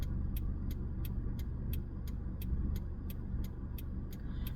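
Car driving through commuter traffic, heard from inside as a steady low road-and-engine rumble with a regular, quick ticking, like a turn signal, running throughout.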